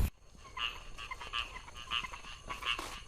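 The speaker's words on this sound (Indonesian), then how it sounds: "sini banyak sekali suara hewan, apalagi hewan-hewan kodok gitu ya" Frogs croak in a steady, repeating rhythm, roughly twice a second, against a quiet outdoor background of hissing night noise.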